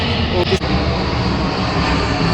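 A fixed-wing airplane flies overhead near London, a loud continuous broadband engine roar that fills the whole moment, with a brief knock partway through.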